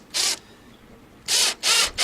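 Power driver whirring in three short bursts, driving big flat screws into a vehicle's front grille, close and fairly quiet with brief pauses between.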